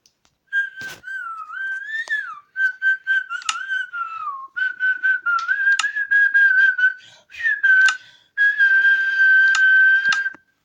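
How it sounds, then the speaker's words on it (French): A person whistles a tune alone in short melodic phrases separated by brief pauses, the clear, fairly loud tone wavering and gliding between notes. "Je vais faire chier mon monde en sifflant."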